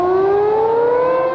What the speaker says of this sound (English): the unmistakable sound of tsunami sirens started to blare